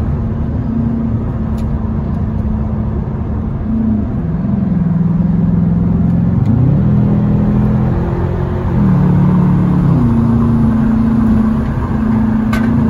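A BMW 645ci's engine drones loudly from inside the car as it accelerates hard, its pitch climbing and dropping back as the car shifts through gears, with a steady road rumble beneath.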